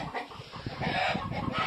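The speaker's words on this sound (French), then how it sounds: "Donc là, il y a les poules, on les dérange." Disturbed hens clucking close by, a run of soft, uneven clucks and murmurs that grows a little busier and louder partway through.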